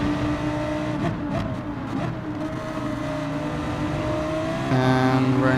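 A race car engine in the Gran Turismo video game drones and whines steadily through a hairpin and over a curb, loud and continuous with shifting pitch and a rising note near the end.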